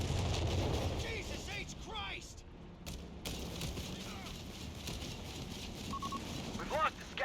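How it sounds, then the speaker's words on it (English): Flakvierling anti-aircraft gun bursts in a war strategy game, rapid booming reports scattered through a busy battle soundscape, moderately loud, with a voice talking over it. "Flakverling opening fire."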